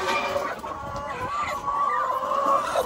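Backyard hens with plucked feathers cluck and murmur continuously in a low, close chatter, with an occasional louder squawk over the flock on a hot day.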